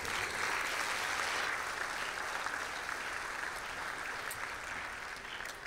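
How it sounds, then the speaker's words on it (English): Sustained audience applause at a gala awards ceremony, honoring teachers, educators and mentors; dense, steady clapping from a room full of people that holds evenly and tapers slightly toward the end. "Let's have a round of applause for them as well"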